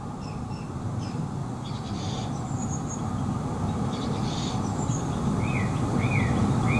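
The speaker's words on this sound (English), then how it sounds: "there's these tiny little birds flying around the ceiling" Faint, scattered chirps of small birds flying around indoors near the ceiling of an abandoned house, over a constant low rumbling background hum, several short high calls coming and going.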